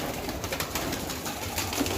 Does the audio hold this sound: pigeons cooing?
yes